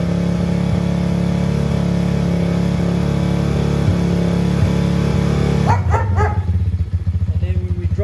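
A motorbike engine idles steadily on choke while warming up, a close, loud, continuous drone that shifts near the end into a rougher, pulsing idle.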